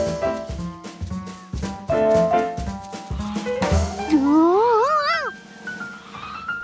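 A cartoon cat lets out a rising, wavering meow, loud and near, after a stretch of lively cartoon music and sound effects, with no voices heard.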